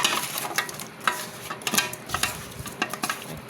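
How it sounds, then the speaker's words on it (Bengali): Fish being mixed by hand with spices in a home kitchen before frying, giving soft wet squelching and scraping with light clinks, close and fairly quiet, with no talking. "এখন সব ময় মশলা দিয়ে আমি একটু মাখাই নিলাম আগে।"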